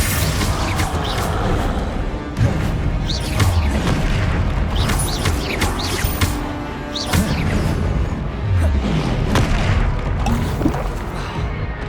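Confringo fire spells exploding in Hogwarts Legacy gameplay, a string of booms and crashing bursts at an uneven pace, with sharp impacts and rumbling low hits repeating throughout.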